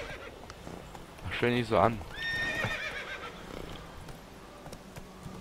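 A horse in The Witcher 3 video game gives a loud whinny with a rising, wavering neigh, followed by soft hoof clip-clop and game ambience, while someone talks over it.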